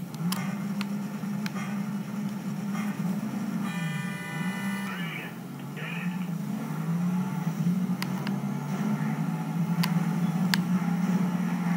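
Racing car engine in Need for Speed Shift drones and shifts pitch steadily throughout, loud and continuous with brief electronic beeps over it.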